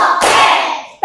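Classroom hands clapping in unison during a group clapping game, one loud burst of claps followed by a fading ring, with a second clap beginning right at the end.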